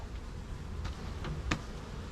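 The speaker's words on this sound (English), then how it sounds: "There's a lot of bees on this, and I'm going to knock them off" Honey bees on a hive frame buzzing in a low, continuous hum, with a few sharp taps as the frame is knocked to shake them off.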